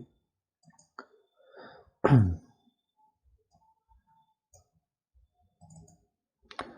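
A computer mouse clicks a few times, sharp faint taps spaced apart in a quiet room, with one louder throat-like burst in the middle.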